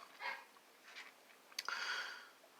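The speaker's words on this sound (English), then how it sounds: "Dogs are barking for something." Dogs barking at night outdoors: a few faint, distant barks in short bursts against a quiet background.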